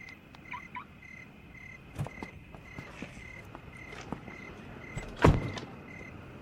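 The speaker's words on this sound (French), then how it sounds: "Ouvre la porte." A door is opened in a quiet interior, with a soft click and a sharper clunk of the latch, a few faint shuffling steps around it and no voices.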